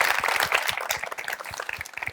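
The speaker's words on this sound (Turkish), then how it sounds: "Bir Hamza alkışlar." A studio audience applauds for a guest named Hamza on a Turkish talk programme, a steady patter of many hands clapping at moderate level, with no voices over it.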